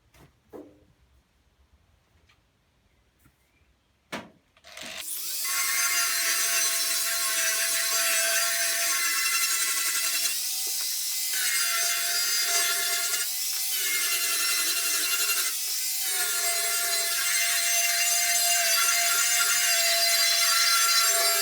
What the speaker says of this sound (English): Just let the grinder do the work.